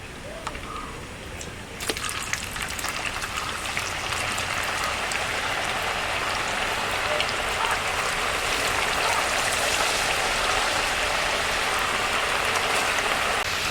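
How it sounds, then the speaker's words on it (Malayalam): Cut potato pieces for French fries drop into hot oil at about two seconds, and a loud, dense, steady hiss of deep-frying builds and continues, close and alone. "അപ്പോൾ എണ്ണ ഏകദേശം ചൂടായിട്ടുണ്ട്. നമുക്ക് അതിലേക്ക് ഈ അരിഞ്ഞു വെച്ച ഉരുളക്കിഴങ്ങിൻ്റെ പീസുകൾ ഇട്ട് കൊടുക്കാം."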